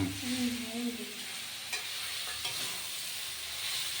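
Vegetables sizzle and sauté in a frying pan while being stirred, a steady close hiss of frying with occasional scraping stirs and no talking.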